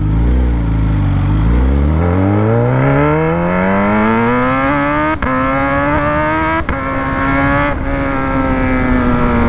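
A Kawasaki ZH2 motorcycle fitted with a full titanium exhaust accelerates hard close by. The loud engine note climbs steadily in pitch over about nine seconds, broken by a few quick sharp interruptions.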